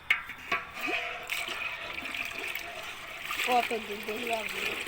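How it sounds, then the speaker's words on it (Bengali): Water splashes and trickles into a pot of milk for several seconds while someone speaks nearby, making homemade yogurt. "এই যে একটু পানি দিয়ে দিলাম"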